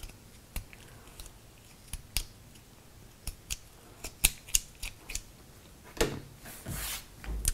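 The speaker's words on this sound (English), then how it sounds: "I will trim off these ends so they're all about the same length" Scissors snip crochet yarn ends close by, with a series of sharp, irregular clicks and cuts that bunch together toward the end, no one talking.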